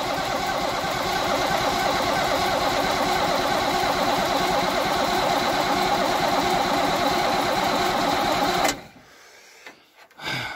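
A 1966 Cadillac DeVille with an overhauled starter cranks steadily in a loud, close, rhythmic churn for about nine seconds without catching, then cuts off abruptly into near quiet.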